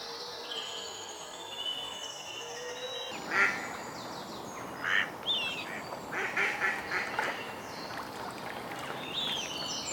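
A coot calls on open water, giving a few short nasal honks and quacking notes over a steady outdoor hiss, with a clearer burst around the middle.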